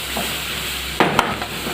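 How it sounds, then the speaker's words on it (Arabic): Garlic spice mixture sizzling in a pan and being stirred, made while cooking fried fish fillet, with a steady fry hiss broken by a sharp scrape and clatter near the middle. "نقلب بقى كل الخلطه دي ببعض كده"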